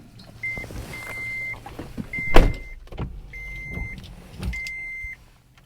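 A 2010 Toyota Prius starting up: a series of short electronic beep tones repeats at steady intervals, with a dull thump and some light mechanical clicks in the middle, heard close inside the car with no talking.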